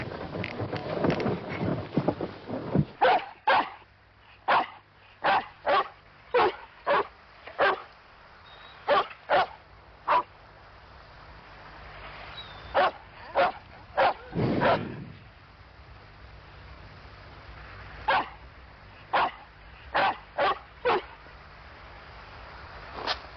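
A dog barks at European bison in Białowieża Forest, Poland, near a village. Sharp barks come in irregular runs, loud and alone, with quiet gaps between them.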